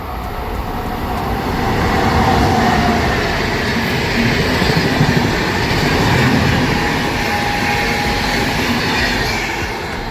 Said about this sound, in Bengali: ট্রেনটা যাক দাঁড়া